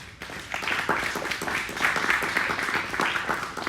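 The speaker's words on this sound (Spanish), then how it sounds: "Denle un aplauso al Señor" Church congregation applauding the Lord during a bilingual Spanish-English service, a steady wash of many hands clapping at moderate volume and held for several seconds without a pause.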